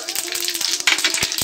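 Panch phoron whole spices crackling in hot oil with bay leaf, a dense burst of close popping and sizzling with rapid spits over a short span.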